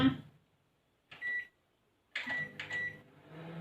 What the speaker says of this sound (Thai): I have to warm in the microwave